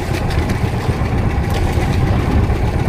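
A steady, rumbling boat engine drones continuously at close range, loud and even throughout, with no voices.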